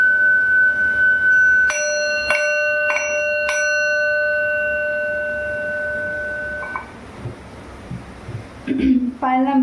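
A small metal bell is struck four times in steady succession during a devotional reading for Guru Raghavendra Swamy and Vishnu, its clear tones ringing out and fading over faint rain noise before a voice begins.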